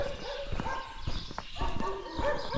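Several dogs barking in the survival video game DayZ, a scattered series of short barks from a distance, mixed with rustling ambience and overlapped by a person talking.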